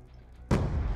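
Gunfire in the Black Ops II video game: after half a second of quiet low rumble, a loud, dense burst of shooting erupts close up and keeps going to the end.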